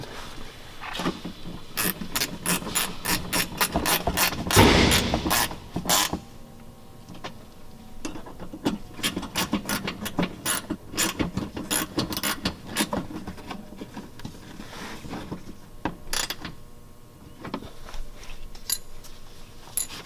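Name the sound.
ratchet snugging up bolts on a 2014 Mustang GT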